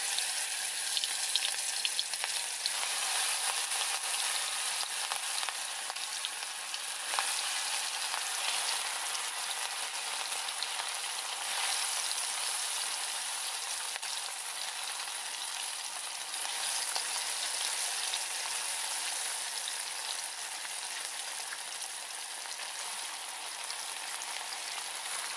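Fish frying in hot oil for a desi-style fish curry, a dense, steady close sizzle and crackle that continues unbroken and evenly loud throughout.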